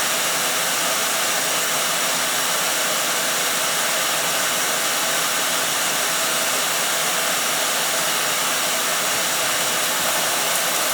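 Oil burner of a heating system in a dentist's office firing up with a delayed oil valve, a steady loud broadband roar sustained throughout with no voices.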